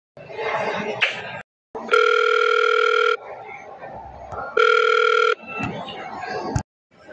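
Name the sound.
telephone dial tone on a phone line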